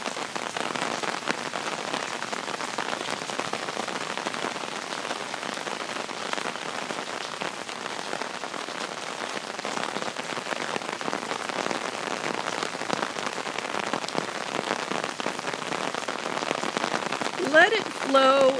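Steady rain falling and pattering on surfaces, a dense even hiss that holds throughout with only slight swells and no voices.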